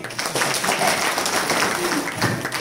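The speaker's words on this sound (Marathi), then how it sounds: "एकदा आमच्या मंडळी करता टाळ्या वाजवा तुम्ही" Audience clapping at a kirtan held in Kolegaon for the birth anniversary of Santaji Jagnade Maharaj, a dense, steady patter of many hands running throughout with speech over it.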